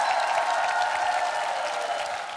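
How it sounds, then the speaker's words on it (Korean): The studio audience of a KBS singing competition show applauds after a performance. A brief, dense burst of clapping holds steady, then begins to taper. "박수 부탁드릴게요."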